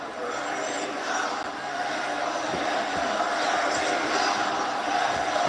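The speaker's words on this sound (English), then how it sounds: "Very vocal crowd all night long." Vocal arena crowd at a WWE Backlash wrestling match, a steady loud roar of cheering and chanting filling the space with no pauses.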